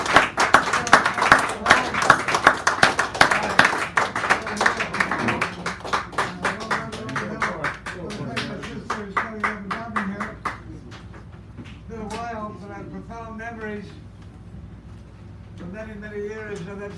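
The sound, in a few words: audience applause at poetry reading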